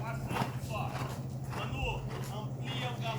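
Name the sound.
horse galloping, hoofbeats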